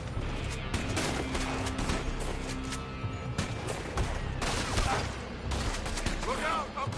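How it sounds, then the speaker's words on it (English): Gunfire pours from a building in the Red Dead Redemption 2 video game, with dense, rapid shots and crashing impacts throughout, loud and close. Voices shout over the shooting. "They're shooting from that building!"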